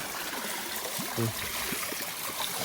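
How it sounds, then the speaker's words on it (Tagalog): Cold water flowing down from the highest point into a fish farm pond, a steady close trickle and stream wash running continuously with a brief low burble partway through. "May makikita natin na tubig galing talaga sa pinakataas."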